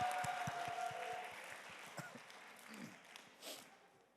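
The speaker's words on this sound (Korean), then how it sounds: "네, 박수." Church congregation applause at a Sunday service, with a few distinct claps at first and then a softer, fading patter of hands, fairly faint and brief.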